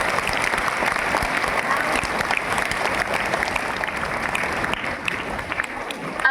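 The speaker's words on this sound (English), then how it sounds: "Let's give a final round of applause to our dedicated teachers." A crowd at a school silver jubilee celebration gives a sustained round of applause for two teachers, many hands clapping loudly and evenly throughout before easing near the end.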